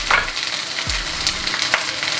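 Steady close sizzling and crackling of bacon frying in a pan, with a few louder pops and a brief low thump.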